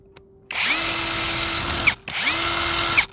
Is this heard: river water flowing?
no